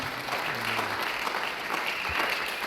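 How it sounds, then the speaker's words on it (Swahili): A church congregation claps steadily throughout, a dense, even patter of many hands at a moderate distance, with no voices standing out. "Makofi tena kwa mama yetu pale mzuri."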